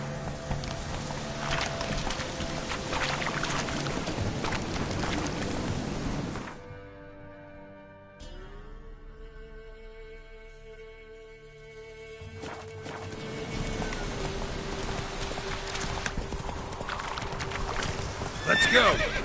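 A horse gallops with rapid hoofbeats in The Witcher 3: Wild Hunt, then slows and lets out a drawn-out neigh before the galloping resumes, all over ongoing game ambience.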